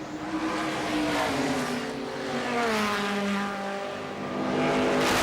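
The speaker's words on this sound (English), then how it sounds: "It is a dogfight between Tim Richmond and Darrell Waltrip." NASCAR Winston Cup stock cars race at Watkins Glen in 1986, engines roaring loudly and continuously with rising and falling pitch as cars pass close by.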